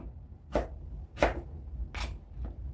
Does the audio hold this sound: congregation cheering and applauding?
no